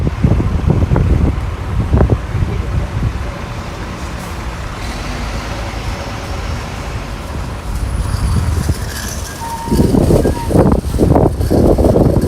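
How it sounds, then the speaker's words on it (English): Gusts of wind buffet and rumble against the microphone in loud bursts, easing to a steady hiss before picking up again. "It's windy today."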